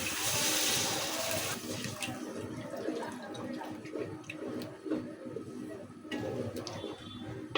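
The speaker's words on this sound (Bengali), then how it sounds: "মশলা সিদ্ধ হওয়ার জন্য অল্প একটু পানি" A little water poured into spice paste simmering in a pan for a chicken roast, a rush of hiss at the start that settles into low bubbling and faint clinks.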